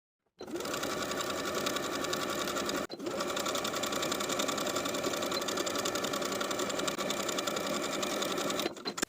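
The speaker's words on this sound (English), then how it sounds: "sew the facing to the seam allowance underneath along the stitching line that we just created" A sewing machine stitches a blouse facing to its seam allowance along a stitching line, whirring loud and steady at close range, with one short stop partway through before running again.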